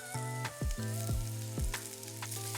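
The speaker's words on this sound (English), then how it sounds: "The onions are looking really good. I'm going to turn it down a little bit and just layer in some potato." Onions and potato fry in a pan with a close, steady sizzle, broken by several sharp swooping tones and clanks that sound like the pan or utensils being moved.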